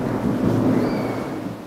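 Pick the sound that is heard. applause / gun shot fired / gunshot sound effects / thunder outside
thunder outside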